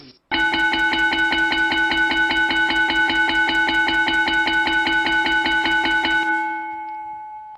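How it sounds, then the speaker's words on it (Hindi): An automatic electric school bell set by a timetable rings loud and steady for about six seconds, a rapid buzzing clang with a bright ringing tone, then fades out. "इस टाइम टेबल पे ऑटोमेटिक घंटी बजती रहेगी"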